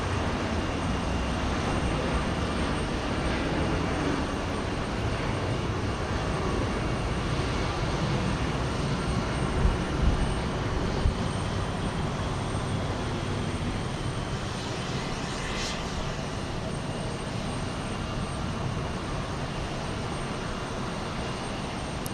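Aircraft engines roar steadily at Houston George Bush Intercontinental Airport, a broad continuous rumble with no speech, loud and sustained throughout, as jets move near the runway.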